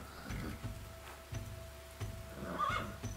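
A horse neighs in The Ancients video game, a short whinny rising near the end over a pattern of low repeated thuds like hoofbeats and steady game ambience.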